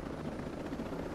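Helicopter flying in the Ghost Recon Breakpoint video game, a steady close rotor drone with a continuous low throb, loud and unbroken, with no talk over it.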